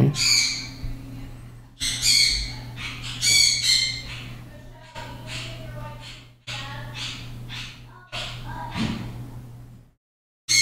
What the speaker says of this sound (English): That bird today, good grief, you hear that? When he goes, wah, wah, wah, wah, that's like frustrated bird.